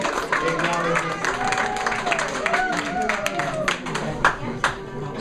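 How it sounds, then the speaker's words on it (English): An audience claps for itself at a spiritual class, with steady applause from a room of people running throughout while voices carry over the top. "Would you like applaud yourselves, like give yourself some acknowledgement?"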